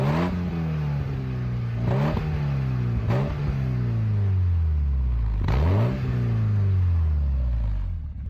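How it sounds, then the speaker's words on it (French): A Porsche 944 fitted with a stainless steel exhaust line blips its engine several times at a standstill, each loud rev rising sharply and falling back to a deep, steady idle rumble. "On est parti pour les coups de gaz."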